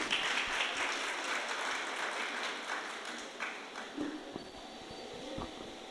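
Applause from an audience at a talk on mother-tongue education and parent dialogue, a fairly faint, rapid clatter of hands that thins out toward the end with a few scattered claps.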